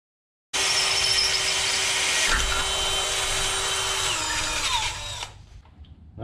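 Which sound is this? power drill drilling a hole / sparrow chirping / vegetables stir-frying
power drill drilling a hole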